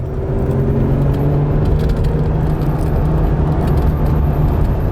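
A Ferrari Testarossa pulls away on a road in Bibury, its engine giving a steady, loud low drone with a faint rattle and whir, continuous throughout with no talk.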